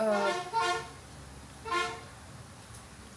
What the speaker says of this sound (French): pourquoi la voiture elle klaxonne comme ça, c'est la voiture qui vend du pain